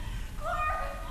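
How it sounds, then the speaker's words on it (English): A cat meows once in the video game Backrooms, a short rising and falling call that stands out clearly over a low background rumble. "Cat!"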